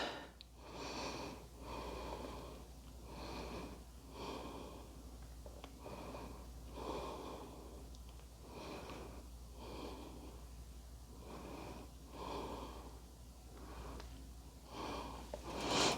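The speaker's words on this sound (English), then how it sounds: "that was 6 quick breaths" Six quick, evenly spaced breaths taken during a hip, shoulder and core mobility exercise, soft close-up breathy puffs repeating in a regular rhythm with no talking.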